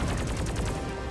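Rapid gunfire in the video game Deep Rock Galactic, a dense continuous burst of loud shots filling the whole moment with no talking.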